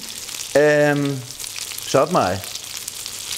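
Plaice fillets in an egg coating fry in a non-stick pan with a steady, crackling sizzle that runs throughout, while a person speaks briefly over it.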